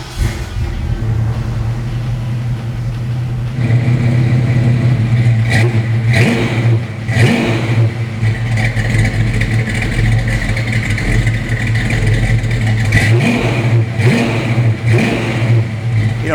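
A 1967 Ford Mustang Shelby GT350 Fastback engine cranks and catches, then settles into a deep rumbling idle punctuated by several sharp revs, loud and close.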